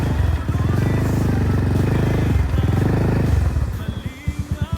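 Motorcycle on a rough road near a resort, engine drone with rhythmic pulsing close by, fading out into a few sharp low thumps and clatter at the end.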